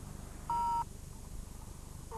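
A single steady telephone keypad DTMF tone sounds for about a third of a second, then a brief second tone follows, as a PIN is entered on a 1990 phone-control home automation system over a low humming background.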